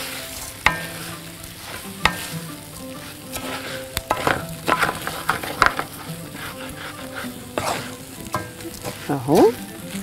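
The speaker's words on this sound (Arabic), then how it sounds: "هنزل معاهم الرز أشوحه تشويحة حلوة قوي" Rice stirred and sautéed in a pan with vegetable broth cubes for a vegetable paella, sizzling steadily up close with repeated scraping and clacking stir strokes, a faint voice briefly underneath.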